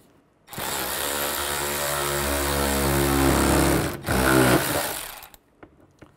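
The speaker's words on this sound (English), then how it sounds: "Use the T20 socket and tighten them up." A power tool with a T20 socket tightens screws on the lower grille of a 2011–2014 Chevy Cruze, whirring steadily for several seconds, dipping briefly, then spinning up again in a short burst before stopping.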